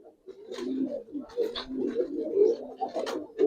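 Giribaz pigeons cooing up close, a run of soft throaty warbling coos repeated several times with some rustling between them, no voices.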